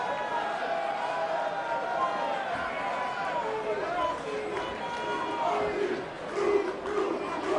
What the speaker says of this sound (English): Yep, the fat men are cheering them on.